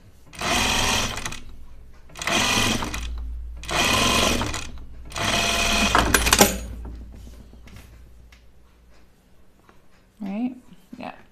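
Domestic sewing machine tacking coat fabric layers together, four close bursts of rapid stitching chatter, each about a second long, with quieter handling sounds and someone talking afterward.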